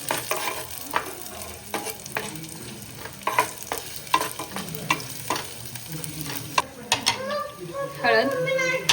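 Garlic and chopped onion frying for matka chicken, with stirring scrapes and clanks over a steady sizzle; a few brief faint voice sounds show up near the end.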